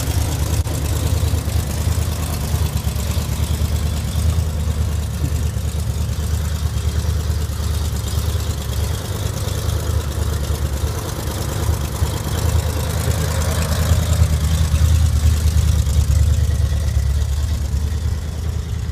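A 1966 Plymouth Barracuda engine idling in a garage, a steady low rumble that runs evenly for the whole stretch, close and loud with no voices.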